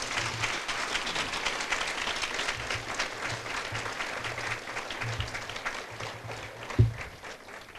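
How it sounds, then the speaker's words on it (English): A school district audience at a Souper Bowl of Caring kickoff event applauding the team: steady, fairly distant clapping from a large crowd, continuing for several seconds with a single louder knock near the end. "So let's give the Super Bowl of Caring team a round of applause from our school district."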